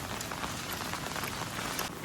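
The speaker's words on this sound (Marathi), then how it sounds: "आता पावसाने जोर धरलाय." Heavy rain pours down at a village fish-catching spot, making a steady, dense, even hiss of drops striking surfaces, with no talk.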